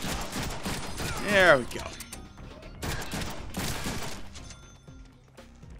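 Gunfire from the Deadpool video game crackles in rapid bursts, with several loud volleys close up and a voice talking briefly over the shots.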